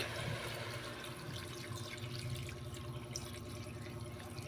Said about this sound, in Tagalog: lalagay po tayo ng tubig